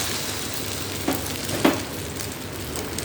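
Marinated fish sizzles in hot oil in a pan, a steady hissing crackle throughout with a couple of brief sharper spits as the fish goes in.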